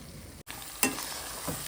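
Masala for mutton curry frying in a pan, a steady close sizzle with a brief dropout and then a sharp stirring scrape, the hiss continuing evenly afterward.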